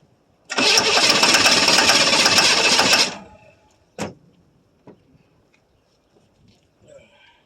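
A 1982 Chevrolet Silverado K10 with a 6.2-liter diesel cranks loudly on a cold start after 23 years for a couple of seconds then cuts off, followed by a sharp knock and a few faint clunks.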